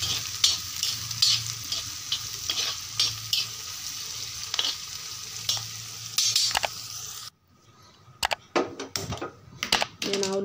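Chopped onion pieces frying in a pan for goat leg soup, a steady close sizzle with stirring clatter; the sizzle cuts out partway and is followed by sharp handling knocks.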